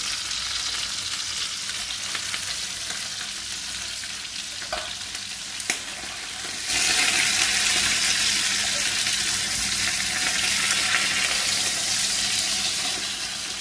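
Endives browning in a frying pan, a continuous close sizzle that swells noticeably louder about halfway through and stays dense, with a couple of faint clicks and no talking.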